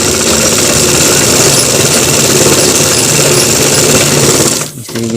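A sewing machine stitching a shirt collar runs fast and loud at close range with a steady dense mechanical chatter, then eases briefly near the end before continuing.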